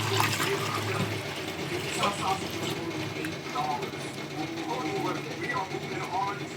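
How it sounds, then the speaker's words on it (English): Steady running tap water splashes continuously with faint clinks as ingredients for chicken congee are rinsed, while a voice speaks in the background. "Okay, just gonna rinse it up a bit."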